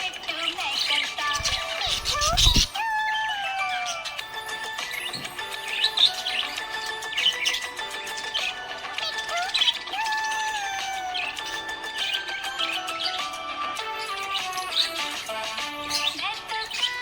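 A happy pet budgie chirps continuously and close by, a busy run of bright tweets and warbling calls over a short low thump near the start.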